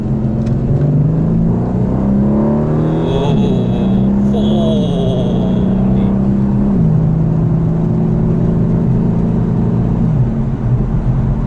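A 2020 Aston Martin DB11 V8 engine hums steadily from inside the cabin, its pitch stepping up and down through gear changes over constant road noise.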